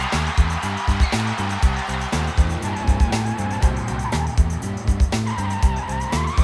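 A monster truck drives and skids, its engine rumbling under repeated short tire screeches in a loud, rhythmic sequence.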